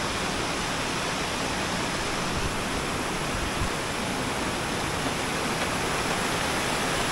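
Bukal Falls in Majayjay, Laguna pours with a dense, unbroken roar of crashing water, loud and close, steady from start to finish with no voices over it.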